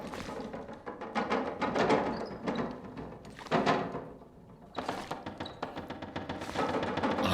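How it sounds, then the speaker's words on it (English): Wind buffets a wooden cabin in the survival video game The Long Dark, a low rumbling, gusting roar with creaks and knocks that swells and eases in waves, steady and moderately loud with no voices. "you can hear the cabin shaking there, the wind's picking up outside."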